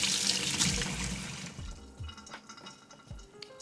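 Tap water runs steadily to mix baby formula, a close, splashy stream with small drips and gurgles over a few seconds, no voices.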